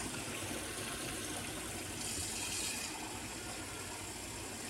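Water from a kitchen sink tap runs steadily into a cup, a constant soft hiss and gush holding throughout with no voices.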